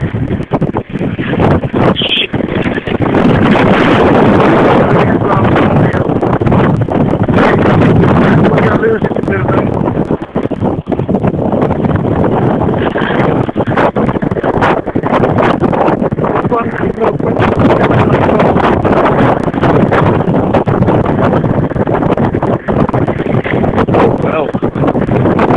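Strong wind roars across the microphone for the whole stretch, a loud, continuous rushing buffet with gusty surges, nearly drowning out someone speaking.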